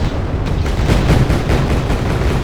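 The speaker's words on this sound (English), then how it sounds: "Now they're coming in, my tanks start firing" Tanks firing in the Wargame strategy video game, a dense, continuous barrage of overlapping booming shots and rumbling blasts that stays loud and steady throughout with no pauses.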